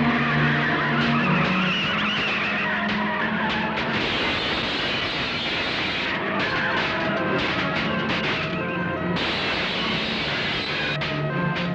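A car speeds through a chase with its engine roaring continuously and tires skidding and squealing, loud and dense throughout with no pauses.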